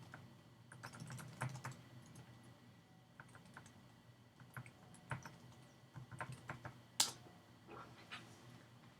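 Typing a username and password on a computer keyboard to log in to a Verizon Fios router, heard as close, irregular runs of soft key taps separated by short gaps, with one sharper click near the end.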